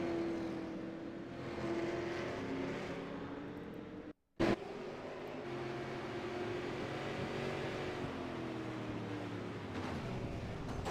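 Race cars roar down the back straightaway at Myrtle Beach Speedway during a night race, a steady engine drone with some rising pitch, heard from a distance and fairly faint, with one brief cut partway through.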